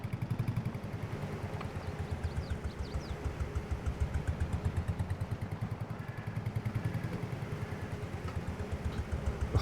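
A vintage tractor engine in the Farming Simulator video game runs at a steady, rapid chugging idle that throbs evenly throughout, moderately loud and with no talking.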